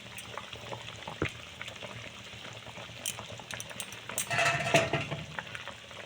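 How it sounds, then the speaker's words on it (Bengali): Tilapia curry bubbles gently in a pan as mustard paste is stirred into the gravy: a soft, steady simmer and sizzle with scattered scraping and clinking from the spoon, growing a little louder near the end. "সর্ষে বাটাটা দিয়ে একটু ঝোলের সঙ্গে হালকা নাড়িয়ে নেব"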